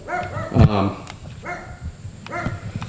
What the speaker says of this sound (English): The neighbor's dog barking, as usual.